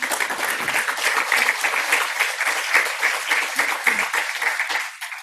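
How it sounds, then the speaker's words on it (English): Audience at a MoMA panel discussion on the Beirut Museum of Art breaks into steady, dense applause from many hands, sustained close and loud throughout before tapering slightly at the end. "And I think we can applaud them here."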